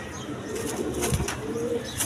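Pigeons in a loft or cage give low, soft coos over steady ambient noise, with a brief flutter of wings near the middle; the birds are a lively pair of throat-puffing, vibrating-neck pigeons.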